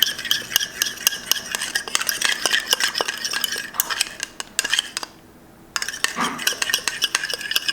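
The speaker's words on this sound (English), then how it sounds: "then you're gonna give it a stir" A spoon stirs tequila basting liquid in a pot, with rapid clinking and scraping strokes in quick rhythm, a brief pause midway, then the stirring resumes, close and fairly loud.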